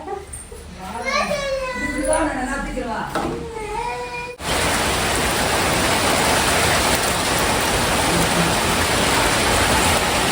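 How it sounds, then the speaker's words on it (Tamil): Heavy rain pours down in a sudden, loud, steady roar that drowns everything after children chatter and call out at the start. "செம மழைங்க இப்போ"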